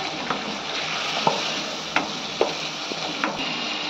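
Spices for a ridge gourd and shrimp curry fry in a pan while a spoon stirs them, producing a steady close sizzle punctuated by several sharp scraping knocks against the pan.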